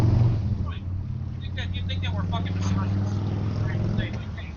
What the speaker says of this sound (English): You've got a lot of street noise.